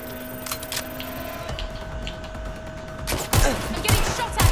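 Gunfire rattles in Watch Dogs: Legion, scattered shots at first, then a louder cluster of sharp cracks toward the end, set against a steady hum of game background.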